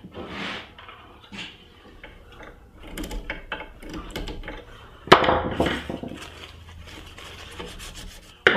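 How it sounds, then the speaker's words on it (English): Hand sanding on a wooden lid and top, irregular rasping strokes rubbing back and forth, moderately close, with a few louder scrapes and small knocks, no talking. "now I'm going to attach the lid and start to sand the top."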